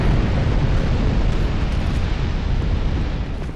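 Barrel carriers blowing up in a video game, a dense roaring explosion rumble that holds steady and thick throughout before easing slightly at the end.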